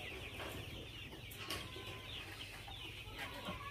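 Domestic chickens in a coop give soft, scattered clucks against a faint, steady background, a few brief calls spread across the span, fairly quiet and without speech.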